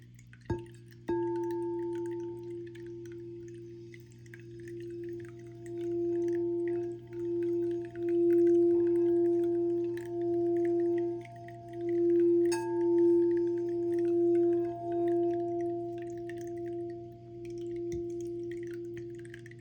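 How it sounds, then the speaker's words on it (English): A singing bowl is struck and rings with a steady, pure sustained tone, swelling and pulsing gently as it is rubbed, lingering for a long time. "I'm going to go ahead and tune the sound bowl"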